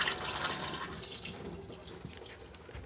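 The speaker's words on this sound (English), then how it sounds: "just slide the lever across and then blue button to flush" A cassette toilet flushes, with a steady rush of water that swells at first and then eases off over a few seconds, heard close and fairly quiet with no talking.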